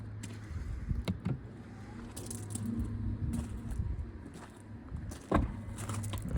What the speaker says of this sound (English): Electric tailgate.